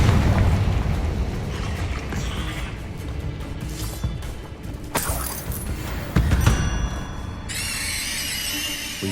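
Spell effects from Hogwarts Legacy, including the Confringo fire spell, go off in a busy game mix: rumbling booms, sharp bursts and mechanical clatter, ending in a bright crackling hiss.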